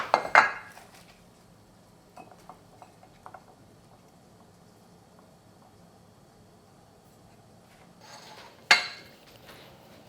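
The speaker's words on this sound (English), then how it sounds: "cut this and eat it with the dipping sauce" Cutlery clinks against a bowl of Korean soy milk noodle soup, with a sharp clatter at the start, a few light taps in the middle and another loud clink near the end, quiet in between.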